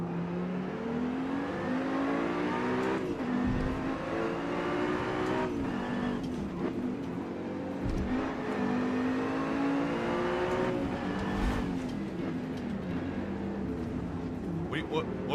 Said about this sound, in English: It's that Ferrari again.